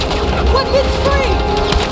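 Battlefield 6 combat during an assault on an anti-aircraft gun emplacement: a dense wash of gunfire and distant booms rolls on steadily under a continuous noisy battle bed, with voices mixed into the din.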